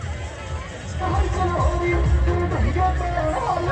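Dense crowd at the Sajgaon village fair near Khopoli, the Bombalya Vithoba yatra: a steady close hubbub of many voices and movement, growing louder after the first second, with scattered knocks and tonal calls mixed in.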